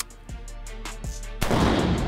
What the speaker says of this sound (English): We'll demonstrate this thing firing in the unsuppressed mode.